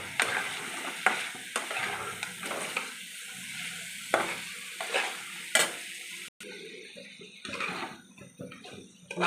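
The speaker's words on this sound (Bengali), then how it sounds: "কালো জিরে দেওয়ার পরেও আমি কিন্তু মশলাটা আরেকটু কষে নেবো মাংসটা" Chicken coated in black cumin paste masala sizzles and fries in a pan while a spoon stirs it in repeated scrapes, steady and close, with brief gaps in the sizzle.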